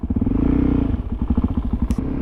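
A Suzuki DRZ 400SM single-cylinder motorcycle with a Yoshimura exhaust thumps in a loud, close, rapid pulsing beat that rises briefly and then settles into an uneven throb, with no voices.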